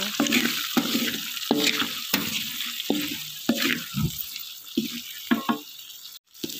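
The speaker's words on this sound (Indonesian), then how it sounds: "Kita tumis lagi teman-teman sampai bawang bombaynya layu." Onion, galangal, ginger, lemongrass and leaves sautéing in a pan for rice cooker biryani, a steady sizzle broken by repeated scraping stirs every half second or so, close and fairly loud, with no talk.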